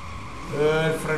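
A motorbike handbrake skid in the video game Driver Parallel Lines, a short tonal tyre squeal rising over game engine noise, close and moderately loud.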